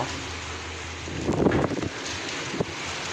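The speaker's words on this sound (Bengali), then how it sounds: "প্রচুর বাতাস, পানির ঢেউ।" Strong wind from Cyclone Remal buffets the microphone over rushing water waves, swelling into a louder surge midway. No one speaks.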